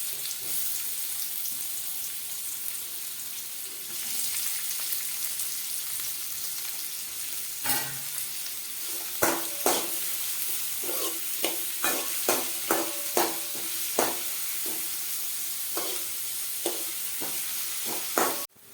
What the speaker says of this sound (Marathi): स्लो गॅसवर कांदा भाजून घ्यायचा